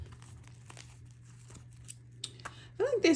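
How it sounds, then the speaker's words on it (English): Soft papery crinkling and brief riffling taps of tarot cards being shuffled, with a louder burst of handling near the end over a low background hum. "One more shuffle."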